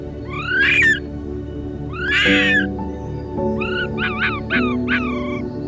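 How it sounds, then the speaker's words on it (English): A fox cub with its head stuck in a jar lets out a few high, wavering whimpers and squeals, loud and close over a steady low hum. "A little fox cub decides to help itself to some dog food, but instead gets its head stuck in a jar."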